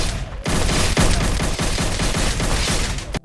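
Gunfire in the VR game Blade & Sorcery comes as a dense, loud burst of rapid shots, about eight sharp cracks in quick succession over a constant booming roar, with no talking.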